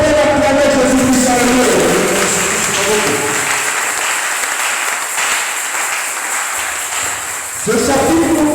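A church congregation at a French Sunday service applauds and cheers for Jesus Christ in a loud, sustained burst of clapping lasting several seconds before a single voice resumes.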